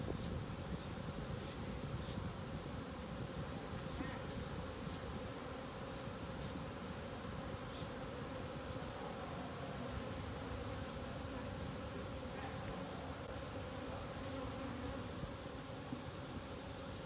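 Honeybees buzz steadily and loudly around an open hive during a summer inspection, a dense continuous drone close by with no voices.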